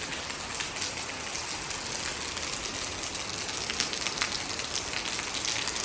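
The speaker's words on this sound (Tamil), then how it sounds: "பார்த்தீங்களா மழை பெய்யுது." Light rain falls steadily outdoors as a soft, even hiss of drops that continues without a break. No one speaks.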